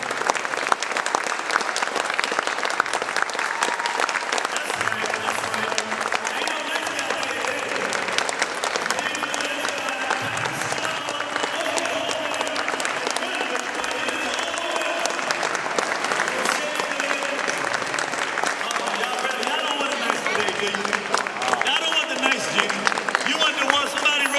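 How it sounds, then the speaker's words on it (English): An audience in a room applauds with sustained, dense clapping that stays loud and even throughout, with some cheering and voices mixed into the crowd noise. "could we stand up and give them a round of applause?"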